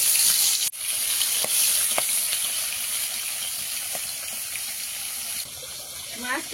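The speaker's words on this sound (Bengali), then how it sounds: "মাছটা কড়াই দিয়ে ফোনটা স্ট্যান্ডে ফাটিয়ে আর বসে গেছি মাছ ভাজতে" Fish sizzles in a wok of hot oil, a steady close frying hiss with a sharp clatter early on and a few faint scrapes near the end, no talking.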